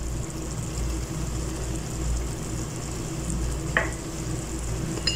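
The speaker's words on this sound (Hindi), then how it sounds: "डालने के बाद अच्छे से मिक्स कर दूंगी" Garam masala is stirred into aloo qeema frying in a pan, a steady low sizzle running throughout with a soft spatula scrape or clink partway, close and continuous with no talk.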